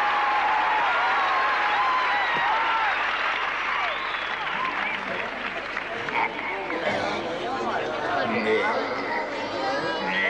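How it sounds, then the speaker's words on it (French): Loud crowd applause in the French-dubbed 1989 film Meet the Feebles, mixed with cheering shouts and chattering voices from a lively audience throughout. "Et maintenant, applaudissez celui qu'on ne présente plus."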